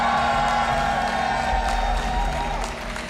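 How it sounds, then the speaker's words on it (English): Crowd at a StarCraft II esports event, WCS Austin 2018 round of 16, cheering for a player; a steady, loud wash of applause, whoops and shouting fills the whole stretch alongside a sustained tonal hum. "Austin, who here is cheering for Stephano"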